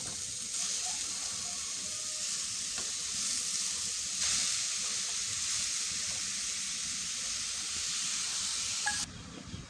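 Grated bottle gourd (lauki) cooks in a hot kadhai for halwa, giving a steady, even sizzle throughout that stops abruptly near the end.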